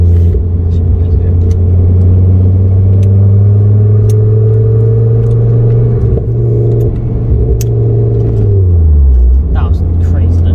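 Forged 400+ BHP Ford Focus ST track car accelerating hard in third gear, a loud droning engine note that rises steadily in pitch, then drops near the end, heard from inside the cabin.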